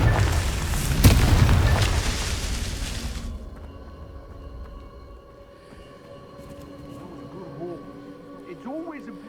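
A Confringo blasting spell detonates in Hogwarts Legacy, a loud booming explosion with a broadband burst that rumbles and fades over a few seconds, followed by quieter ambient game sounds and a voice speaking.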